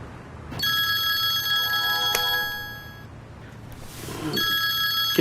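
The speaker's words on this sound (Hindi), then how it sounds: "किसका फोन है?" A telephone rings at night indoors, two bursts of a steady electronic ringing tone separated by a short pause, close and clear with no talk over it.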